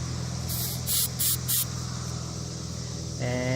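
Short bursts of aerosol rubber leak-stopper sealant sprayed onto a roof, three to four quick hissing spurts in a row over a steady outdoor background, close and fairly loud.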